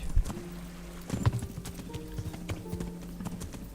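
Rhythmic clip-clop of a horse galloping in a video game, steady hoofbeats close up over a low background hum, with a faint voice briefly audible.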